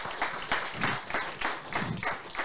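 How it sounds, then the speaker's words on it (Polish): An audience claps after a pitch at a hackathon, a brief burst of applause from a small crowd with rhythmic claps, moderately close and fairly quiet. "Wielkie brawa."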